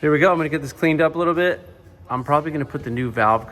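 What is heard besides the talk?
None of the usual background noises is heard.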